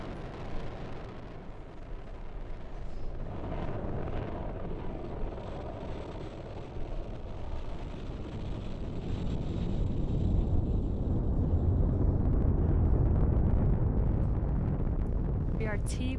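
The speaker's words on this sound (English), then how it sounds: "we are currently firing all 9 of those M1D engines" A SpaceX Falcon 9 rocket in flight with all nine Merlin 1D engines firing, heard as a continuous distant rumbling roar that swells louder in the latter half, with wind buffeting across the recording.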